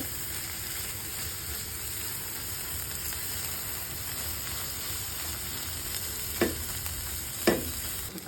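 Pumpkin flowers and egg frying in a pan with a steady low sizzle throughout, broken near the end by two sharp scrapes of a spatula stirring the mixture; no voices.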